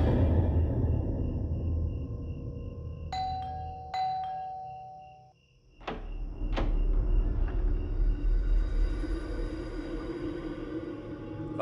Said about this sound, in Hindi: इतना समय लगता है दरवाजा खोलने में